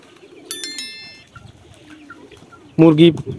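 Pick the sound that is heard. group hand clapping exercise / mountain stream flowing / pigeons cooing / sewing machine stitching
pigeons cooing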